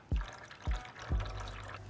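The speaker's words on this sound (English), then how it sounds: "we're going to pour in our herb oil and the strained tom yum broth" Herb oil and strained tom yum broth are poured into a well of flour, making a few soft, close glugging splashes followed by a brief steady trickle.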